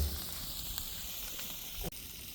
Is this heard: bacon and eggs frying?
yes